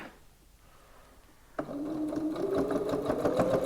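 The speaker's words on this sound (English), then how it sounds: "So I'm going to stitch along here, put this one together" Sewing machine stitching through several layers of a reversible shopper bag: after a quiet pause it starts abruptly and runs in a fast, steady, close rattle to the end.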